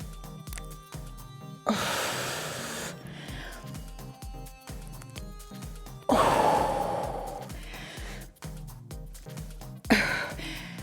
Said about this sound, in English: you can hear me exhale as I lift